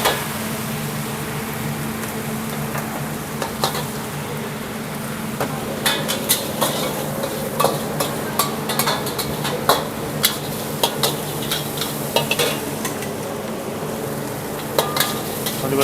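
Curry fried rice (nasi goreng kari) stir-fried in a restaurant wok: a steady sizzle runs beneath repeated sharp metallic clanks of a spatula striking the pan, irregular and close, with no talk.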